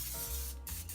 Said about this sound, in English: The first thing is to spray your crock pot